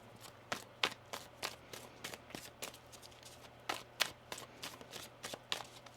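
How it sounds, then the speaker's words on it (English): A deck of tarot cards is shuffled close by in a quiet room, producing a quick, irregular run of crisp riffling snaps and soft slaps with short pauses between. "One more shuffle."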